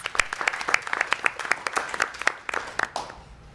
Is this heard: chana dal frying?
no